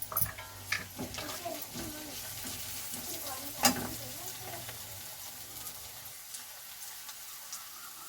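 Chopped onion, green chillies and garlic sautéing in a pan, a soft steady sizzle with repeated scraping stirs and one sharp clink of a spatula, heard close and fairly quiet without talking.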